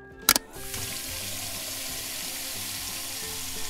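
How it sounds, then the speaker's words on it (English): Tap water runs steadily into a kitchen sink to soak dishes, a constant hissing splash after a brief clink at the start, close and without any talking. "Turn the water on and soak the dishes."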